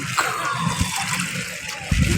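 Continuous rushing, splashing river water close by as someone wades across in wind and rain, with bursts of wind noise and a few faint voices underneath.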